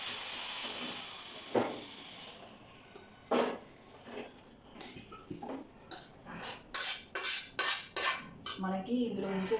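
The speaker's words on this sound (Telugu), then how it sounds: "సో ఇది ఇప్పుడు ట్రాన్స్ఫర్ చేసేసుకుంటాను స్టీల్ గిన్నెలోకి." Gongura dried prawn curry being moved into a steel bowl, with a series of sharp metallic clinks and scrapes of a spoon against steel, growing more frequent toward the end over a faint hiss.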